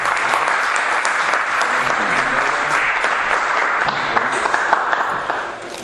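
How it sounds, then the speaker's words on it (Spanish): Sustained applause from an audience at a lecture honoring a professor, steady and full for several seconds, with faint voices mixed in, tapering off at the end. "le damos un fuerte aplauso al profesor"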